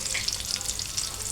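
Onions frying in hot oil with a spoonful of ghee, a steady bright crackling sizzle that runs without a break, close and moderately loud, with no talking.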